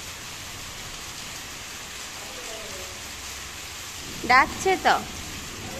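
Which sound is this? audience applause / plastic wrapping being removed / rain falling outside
rain falling outside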